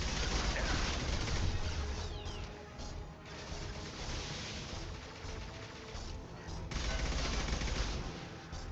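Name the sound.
gunfire in Mass Effect 2 video game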